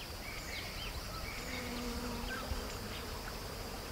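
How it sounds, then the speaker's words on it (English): Giant cliff bees swarm at their hives on exposed rock, more than two million together, making a dense, continuous droning hum that holds steady throughout. "On this one cliff alone, there are over 2 million bees"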